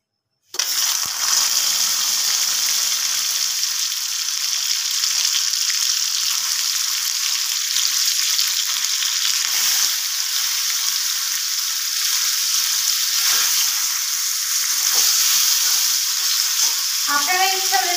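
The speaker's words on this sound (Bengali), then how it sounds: "পনিরগুলোকে ভাজার জন্য।" Paneer fries in white oil in a wok, giving a loud, continuous hissing sizzle close up that holds steady from start to finish, with no talking.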